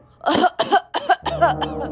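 A person gives four quick, deliberate coughs in a row, close and loud, sounding staged rather than natural.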